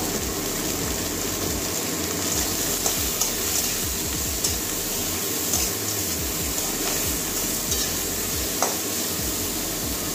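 Potato and brinjal sizzling with turmeric in a pan for a Bengali charchari, a loud, steady frying hiss with rhythmic stirring scrapes throughout, close and with no voices.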